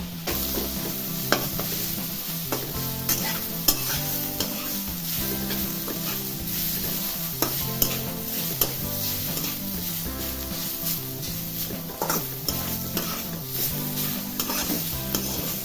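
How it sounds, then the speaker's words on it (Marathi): Potato pieces sautéing in hot oil with roasted green chillies for sabudana khichdi, a loud continuous sizzle with frequent stirring scrapes and small clinks of a spoon in the pan, no voices. "मी आता हा बटाट्याचा पीस टाकणार आहे त्यामध्ये हा पीस परतून घ्यायचा आहे"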